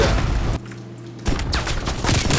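Shots from a .410 Ironhide shotgun in Call of Duty: Black Ops Cold War, loud close blasts with a brief lull in the middle before more firing.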